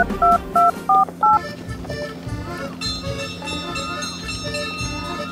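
Four short, loud touch-tone beeps in quick succession as a phone number is dialed, followed by busy background music and ambient noise.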